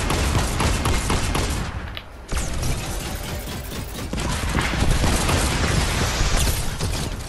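Dense automatic gunfire rattles through a video game firefight, loud and nearly unbroken for several seconds apart from one brief pause. No voices are heard.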